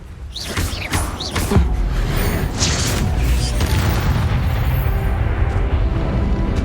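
Confringo fire-blast spell in Hogwarts Legacy, sounding as a dense, continuous rumbling boom with a few sharp whooshing accents early on, steady and loud throughout with no talking.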